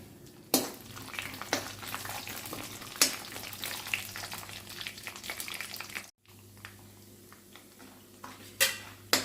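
Chopped dry fruits are lightly roasted in a hot pan: a continuous close sizzle broken by repeated sharp clinks and scrapes of a spoon against the metal pan, with a brief pause partway through.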